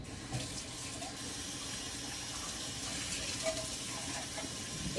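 Empty bean tins are rinsed under a running kitchen tap, a steady close splash of water hitting metal in the sink throughout.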